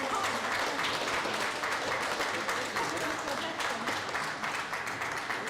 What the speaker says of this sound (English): Round of applause for these people, please.